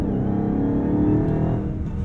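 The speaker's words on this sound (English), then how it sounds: "hold my foot hard on the brake, pin the throttle, let it go." A 2022 Dodge Charger Hellcat Widebody engine holds a steady, loud, deep roar on a launch-control start, close and continuous for about two seconds, with no talk.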